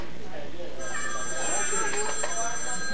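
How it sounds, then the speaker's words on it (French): Telephones ring with steady high electronic tones that start about a second in, layered over a busy background of voices and room chatter at a cerebral palsy telethon. "il y a les téléphones qui se remettent à sonner"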